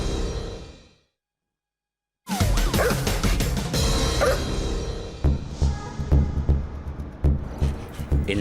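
A police dog, a German Shepherd working with its handler, gives a string of short sharp barks and yips near the end, after a brief silence and a busy noisy stretch.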